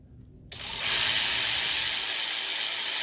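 A ratchet tightens brake caliper bolts on a Toyota Matrix during a brake job. After a brief quiet start, a loud, steady, fast ratcheting whir sets in and runs to the end with no talk.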